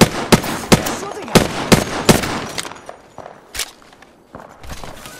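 Rapid gunshots ring out in Apex Legends, a run of loud, sharp cracks in an uneven rhythm that thin out into scattered, fainter shots toward the end.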